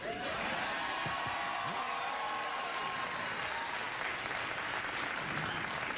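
A studio audience at a late-night talk show applauds continuously, a broad, even wash of clapping sustained from start to finish with a faint voice beneath.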